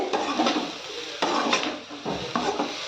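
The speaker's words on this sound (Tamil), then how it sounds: "கடாய் வந்து நல்லா பிடிச்சிட்டு நல்லா கிளறி விடுங்க" A spoon or spatula scrapes and knocks around a kadai while egg and cabbage podimas is stirred, giving close, uneven scraping strokes with a few sharper clanks and no talking.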